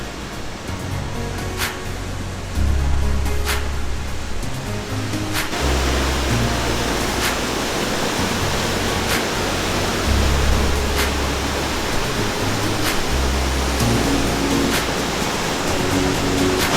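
A waterfall roars as a steady, dense rush of falling water that fills the scene for the whole stretch. Low rumbles and a few faint clicks sit under it, and no one speaks.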